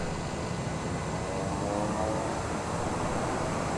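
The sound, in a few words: TBM 930 turboprop engine in reverse thrust after landing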